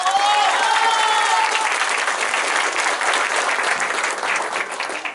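Crowd clapping at an outdoor inauguration of a hydraulic concrete public works project on Av Morelos in San Mateo Cuautepec, a loud, dense, continuous round of applause with a brief voice near the start.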